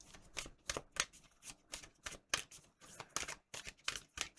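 Tarot cards being shuffled close up in quick repeated riffles and slaps, a steady rhythmic flutter with brief pauses, no talking.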